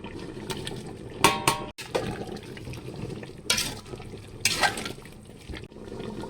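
Water is poured into a cooking pot while preparing a no-onion, no-garlic vegetable dish for Mahalaya Amavasya, with several short splashing pours in bursts between quieter kitchen sounds.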